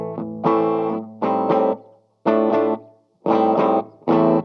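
Bright, distorted electric guitar strums from a Hagstrom Viking I on the bridge pickup, in short chopped bursts separated by brief gaps, crunchy and forward with a trebly edge.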